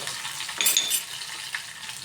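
Sliced eggplant, onion, garlic and curry leaves sizzle in hot oil in a pan, a soft steady crackle with a brighter hiss and a few clinks as pieces drop in.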